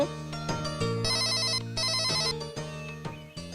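A mobile phone ringtone plays a bright electronic melody, loud and close, with repeating chiming notes and no voices over it.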